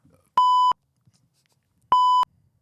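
Two identical censor bleeps, each a steady pure tone of about a third of a second, sound a second and a half apart over near silence, blotting out a spoken word.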